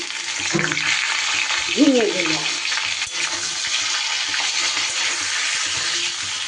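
Ridge gourd sizzles in hot ghee with bay leaf, cumin seeds and asafoetida while a utensil stirs it, making a continuous loud frying hiss with brief vocal sounds early on.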